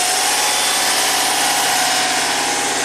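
Steady, loud engine drone from a Subaru running rough with its alternator connected, a continuous buzzing hum with vibration and no talking.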